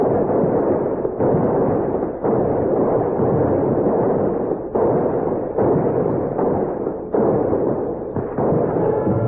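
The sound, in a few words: gun salute fired from rifles and swivel guns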